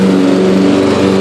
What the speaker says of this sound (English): hopefully you guys can hear me over the sound of this mower deck because it's loud